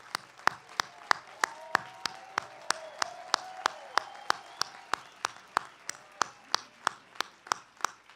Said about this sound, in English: give a round of applause to those that were part of your journey getting here